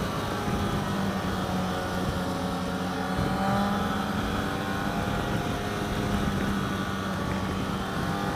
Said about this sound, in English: All I hear is the engine and the intake, just the general mechanical whirring noise of a mid-size inline twin